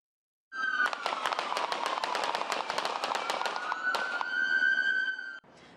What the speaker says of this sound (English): That was the final gunfire at this shooting in East Houston on Gazin Street